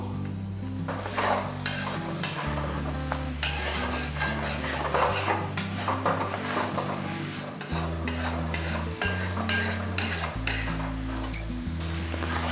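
Masala egg fry stirred in a pan over a high flame, a loud steady sizzle with repeated scraping and clanking of a metal spoon against the pan. Music plays throughout.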